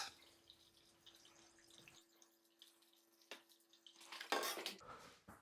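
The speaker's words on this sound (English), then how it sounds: "Waiting that our grain drain very well" Wort drains from the grain while brewing an English bitter at home. Soft watery trickles and drips give way to a louder splashing, clattering burst near the end, with no talking.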